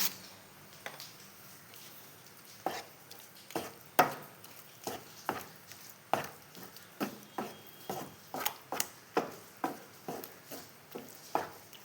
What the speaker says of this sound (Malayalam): നല്ലോണം ഇളക്കി കൊടുക്കട്ടെ